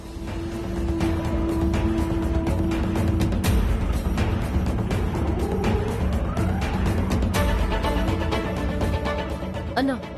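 Auto rickshaw driving along a busy road, its engine a steady loud rumble throughout with traffic noise, passing vehicles and horn-like tones mixed in.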